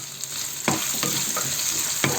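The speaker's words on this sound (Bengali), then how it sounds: "পেঁয়াজটাকে আমি ভালোভাবে ভেজে নেব" Chopped onion fries in hot oil with cumin seeds and dried chili, giving a steady, close sizzle with a few scrapes from a stirring spoon.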